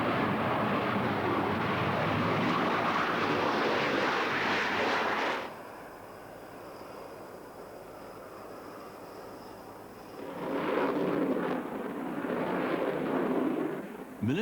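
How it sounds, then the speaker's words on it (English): A Tornado military fighter jet flying, a loud roaring rush of engine noise that fades to a quieter rumble midway, then surges back strongly toward the end. "The popular image is the man who flies high-performance fighters, like the Tornado"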